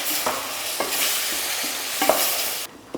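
Tomatoes and beans sauté in a pan with salt and ginger-garlic paste, giving a steady close sizzle broken by several scraping stirs of a spoon, with no talk.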